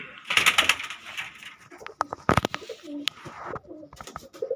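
Andhra breed pigeons coo in close, repeated throaty calls, with a few sharper chirps and bursts scattered between them.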